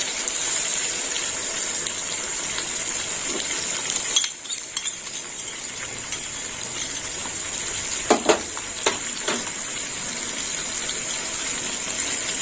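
Masala paste, mixed with water beforehand, sizzles in a pan with pointed gourd (potol): a steady, fairly loud hiss that dips briefly, with a few sharp spits and pops partway through.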